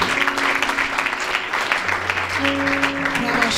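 A church congregation claps and cheers at a Christian youth gathering, with steady applause that carries on under a voice and sustained music tones.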